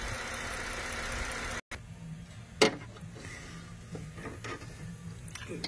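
A Ford 3.5 engine runs at a steady idle, a low continuous hum heard up close. Brief clicks and one sharp knock-like bang break through it partway along.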